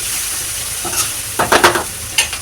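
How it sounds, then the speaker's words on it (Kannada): A spoon stirs and mixes food with chilli powder in a frying pan, scraping and clattering in a few short bursts over a steady sizzle, close and loud, with no voices. "ಇದು ಹಾಕೊಂಡ್ಮೇಲೆ ಫುಡ್ ಮಿಕ್ಸ್ ಮಾಡ್ತೀವಿ ಮೂರು ಮಿಕ್ಸ್ ಮಾಡಿಕೊಂಡು"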